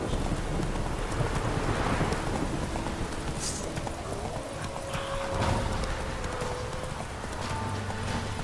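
Roach, the horse in The Witcher 3, gallops with fast rhythmic hoofbeats under a steady wash of rain and distant rumbling thunder.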